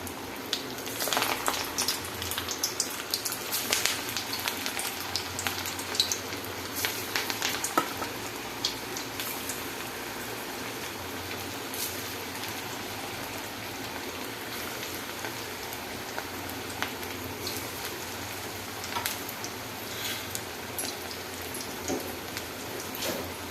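Onion pakodi of gram flour batter fry in hot oil in a kadai, a steady dense crackling sizzle that runs continuously at a moderate, even level with scattered sharper pops.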